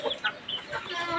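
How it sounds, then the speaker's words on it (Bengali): Hens cluck in short bursts at close range, a series of soft irregular calls with a faint voice in the background. "এই যে আমার বড় মরগ, এই যে মুরগি"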